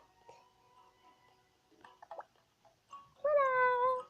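A cat meows in a video game: faint mews and small clicks at first, then one long, clear, drawn-out meow near the end, close and louder than the rest, with no talking.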